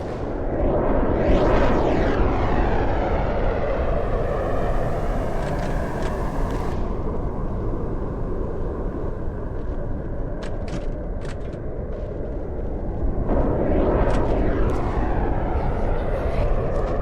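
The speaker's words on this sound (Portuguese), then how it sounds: "O som dos aviões cortando o ar é inconfundível." Loud, continuous roar of aircraft engines sweeping past overhead in Project Zomboid, with rising and falling whooshes over a dense rumbling background.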